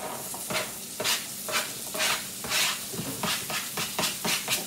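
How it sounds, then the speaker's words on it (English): Chopped celery and onion sauté in a pan for bread stuffing, a steady close sizzle broken by repeated scraping stirs that come every half second or so, with no voices. "I'm going to let that saute till everything's soft"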